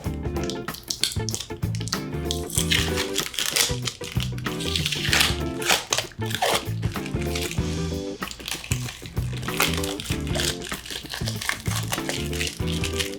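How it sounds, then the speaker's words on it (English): Tape is peeled off a Golden LiteRider mobility scooter battery box, making dense, continuous crinkling and crackling up close for over thirteen seconds, with small taps mixed in and no talking. "Then we'll take our tape off."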